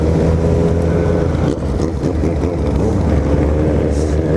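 Motorcycles, including BMW S1000RR and Suzuki Hayabusa sport bikes, rumble past on a mountain road, a loud, sustained engine drone with shifting pitch that holds steady throughout.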